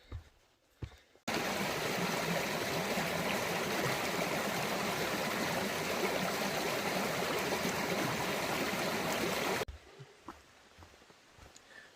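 A mountain stream, the Big Wilson in Maine's 100-Mile Wilderness, swollen after a day of rain, rushes steadily and loudly up close for most of the stretch, with quieter outdoor ambience and a couple of faint knocks before and after.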